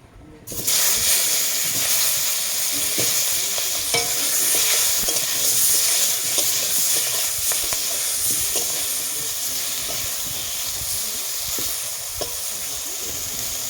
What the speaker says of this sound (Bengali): তাই আমি আর একটু তেল দিয়ে দেবো। দিয়ে আমি বেগুনটা এটাই ভেজে নেব